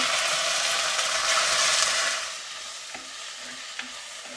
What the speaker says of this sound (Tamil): இப்போ இந்த தக்காளி பழமெல்லாம் சேர்ந்து நல்ல வடிவாக வதங்கி வந்துட்டு